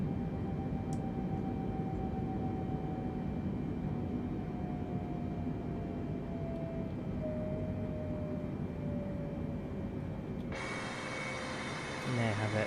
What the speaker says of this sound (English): Right, flaps up to 2 degrees, 1 degree.